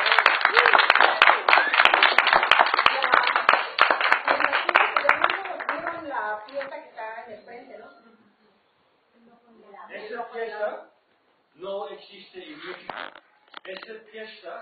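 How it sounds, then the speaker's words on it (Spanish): A crowd at an art exhibition opening in Mexico claps loudly for about five seconds, then the applause thins out and gives way to people talking. "En ese caso, ¿quieres aplaudir?"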